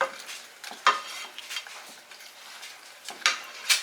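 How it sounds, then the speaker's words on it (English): Strawberry syrup and water stirred in a pot, with intermittent scraping and light knocks of a spoon against the sides, close and moderately loud without speech. "and we are gonna stir this up."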